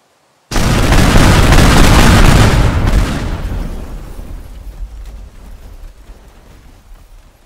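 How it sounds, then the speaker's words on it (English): Huge cinematic bomb, the biggest in the game Teardown, detonates in one loud, sudden boom that roars for about two seconds, then fades into a long rumbling tail of debris. "How powerful is the explosion?"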